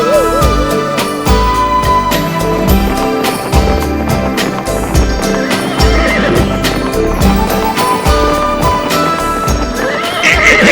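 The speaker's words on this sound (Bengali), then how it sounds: "আমার ঘোড়াটা এমন চেঁচাতে শুরু করলো কেন?" A horse neighs loudly and repeatedly over a dense, busy backdrop of music and clip-clopping hooves, the whinnies standing out clearly near the listener.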